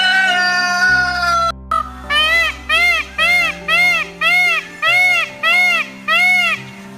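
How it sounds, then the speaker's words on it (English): A rooster crows once near the start, followed by a long run of about eight evenly spaced, loud bird calls in a regular rhythm, heard over a steady low hum with no talking. "This is a cock."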